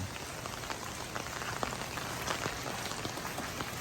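Steady rain falls on a rice farm, a dense, even hiss of drops hitting surfaces with occasional louder splashes, continuous throughout.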